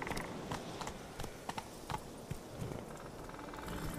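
Horse hooves clip-clopping at a gallop while riding through the open world of The Witcher 3, a steady rhythmic pattern of moderate loudness set over a constant ambient wash.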